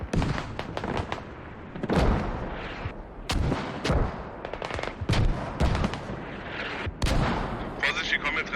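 Booming mortar and artillery blasts from a multiplayer war game, a mix of heavy thuds and sharp cracks at irregular intervals, with talk running underneath.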